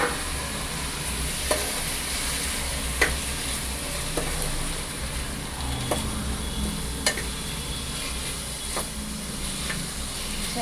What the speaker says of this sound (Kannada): ನಾನು ಈಗ ಚೆನ್ನಾಗಿ ಫ್ರೈ ಮಾಡಿಬಿಟ್ಟು ಆಮೇಲೆ